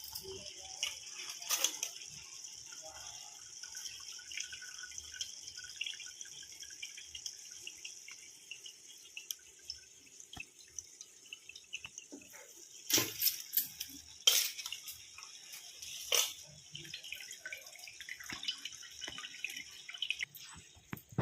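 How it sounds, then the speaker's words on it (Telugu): Water drips and trickles from soaked rice draining in a strainer for chicken biryani, with scattered splashes, louder bursts partway through and quiet gaps between. "ఇగోండి రైస్ అంతా వడకట్టి వేసాను"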